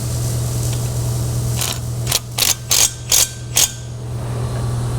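Ratchet tightening differential mount bolts on a Corvette being fitted with a Winters quick change rear end; five loud, evenly spaced ratcheting bursts close up over a steady low hum, no talk.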